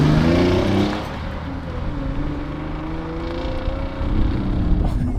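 A second-generation Hyundai Genesis Coupe with the 3.8L engine on the move, heard as a steady low engine drone with rising and falling tones as it pulls through the gears, mixed with road noise from inside the cabin.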